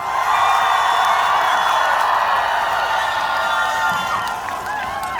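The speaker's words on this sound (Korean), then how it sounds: "다시 한번 수성모 페스티벌 가득 메워주신 여러분 박수와 함성!" A large outdoor festival crowd at Suseongmot lake cheers and applauds loudly after a trot singer's medley, a dense, sustained roar of voices and clapping that stays fairly even throughout.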